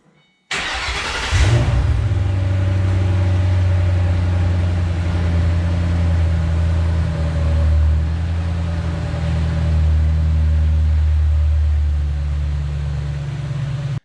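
A 2008 Ford Mustang GT500 on a night drive, its engine holding a steady, loud low rumble for the whole stretch after an abrupt start, with no talk.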